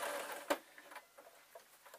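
A domestic sewing machine stitches fabric for a simple peg bag, giving faint mechanical ticking and patter with one sharper knock, quiet and close, with no talk.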